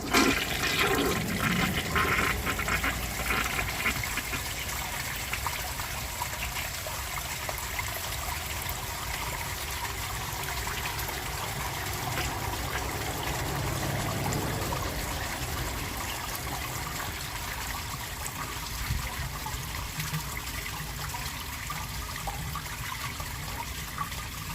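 A 1953 Kohler Trylon 3.5-gallon toilet flushes during a clog test, with a steady rushing, swirling water roar that persists throughout, close and fairly loud.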